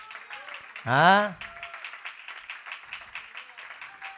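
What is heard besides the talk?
congregation clapping for the Lord in church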